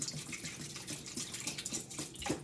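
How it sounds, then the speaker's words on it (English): Tap water runs into a pot of peeled potatoes in a home kitchen, heard as a steady, moderately quiet splashing rush with small gurgling shifts throughout, with no talk. "Putting a little water in my potatoes because I don't want them to turn brown."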